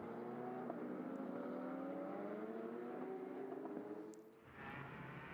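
Race cars in a GT racing video game sweep through the Imola chicane at Magny-Cours, engines droning in a steady rising whine that dips briefly, then returns at full pitch.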